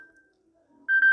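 A Samsung Galaxy M02 phone plays a short ringtone preview from its SIM 2 settings: a faint tone early on, then a loud, bright two-part electronic beep near the end.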